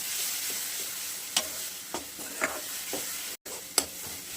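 Green masala paste sizzles and fries in a pan for chicken curry. Stirring strokes scrape through it at intervals, with a steady frying hiss underneath.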